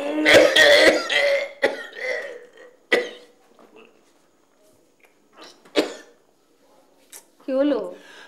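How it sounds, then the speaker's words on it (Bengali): A person coughs and clears their throat several times in short bursts between pauses, close and fairly loud, with voices speaking in the same clip. "আমি কদিন ধরে দেখছি তোমার কাশিটা কিন্তু কমছে না"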